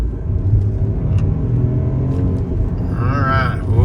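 Close, buzzy rumble of a Ford three-cylinder family car engine being revved, a coarse continuous drone that holds steady at high volume with no talking.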